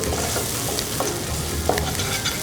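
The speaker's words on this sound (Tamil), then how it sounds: "இந்த மசாலாவோட எல்லாம் வதங்கி வந்துடுச்சு." Spice masala for black chickpea curry is stirred and fried in a pan, making a loud, continuous sizzle with scraping stirring strokes close up, and no talking.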